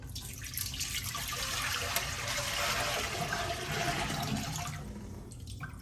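Water poured from one pot into another vessel during tamale cooking, a steady broad rushing splash that runs for several seconds at moderate level and then cuts off.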